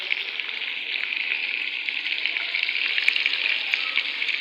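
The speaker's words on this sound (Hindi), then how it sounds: "तो ये देखें जी, माशाल्लाह से ये फ्राई हो रहा है।" Meat (mutton) frying in a pan in a home kitchen, an even, bright hiss of sizzling oil running steadily and close for several seconds, with no voices.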